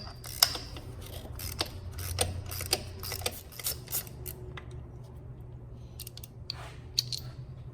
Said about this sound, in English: now I'm gonna use my 5/8 spark plug socket. Put it there.